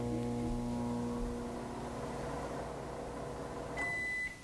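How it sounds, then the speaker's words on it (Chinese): A microwave oven heating ginger paste runs with a steady low hum and tonal drone, then gives a bright electronic beep near the end before the hum cuts off. "我们现在先用微波炉"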